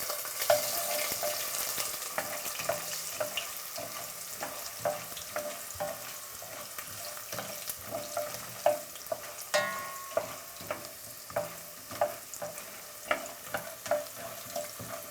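Coffee beans frying in hot oil with ginger in a pan, a continuous quiet sizzle broken by regular scraping and tapping strokes of stirring, close and without voices.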